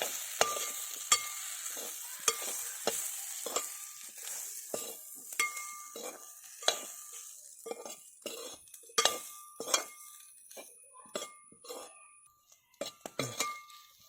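A spoon scrapes and clinks repeatedly against a pan as meat masala and chilli powder are stirred and sautéed for ivy gourd curry, with a soft sizzle running underneath.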